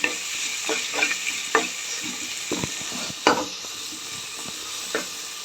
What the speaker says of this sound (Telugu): ఇప్పుడు పచ్చిమిర్చి, అలాగే అల్లం, ఇవన్నీ కొంచెం బాగా వేగేదాకా వేపుకున్నాం